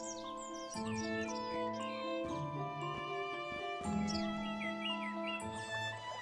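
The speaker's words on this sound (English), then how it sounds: "You start to hear birds and see flowers." Birds chirp and tweet in quick, bright calls over a steady tinkling, tonal backdrop, continuous and fairly close throughout.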